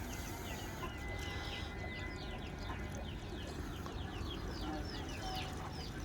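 Chickens cluck and chatter steadily inside a coop in the morning as they wait to be let out, many birds calling at once over a dense, constant din.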